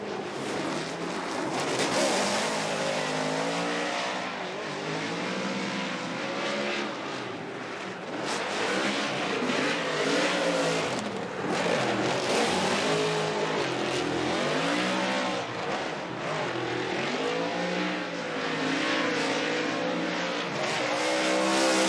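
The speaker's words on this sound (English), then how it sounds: "listen to the Monster Energy Nitto Tire Ford Performance Mustang RTR Spec 5D" The Ford Performance Mustang RTR Spec 5D drift car on Nitto tires competing at a 2021 Formula Drift round in Atlanta, its engine revving hard in rising and falling waves over continuous loud tire squeal as it slides.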